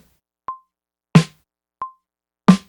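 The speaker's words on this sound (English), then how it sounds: "That's all the same snare drum from the same session," Snare drum samples from a single session, heard through cassette tape: two sharp snare cracks, each led by a short tonal click, evenly spaced and alone in silence.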